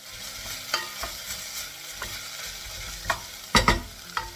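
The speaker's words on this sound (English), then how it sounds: "once the onions have been cooking down for a few minutes, we're also going to go in with a little bit of butter" Chopped onions and a tablespoon of butter sizzle steadily in a pan for a pea and pancetta soup, with a spoon scraping and stirring in irregular close knocks, louder toward the end; no voices.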